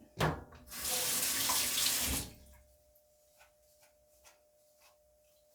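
A faucet gushes for about two seconds, wetting hair during a home haircut, then cuts off, followed by quiet scattered drips and small clicks nearby, with no talking.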